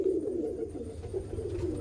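A pigeon coos softly and continuously nearby, a low warbling murmur with no voices over it.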